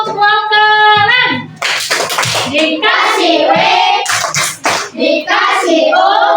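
Primary school pupils clap for group three during a coding lesson, sharp rhythmic clapping mixed with children's chanting voices and a teacher speaking.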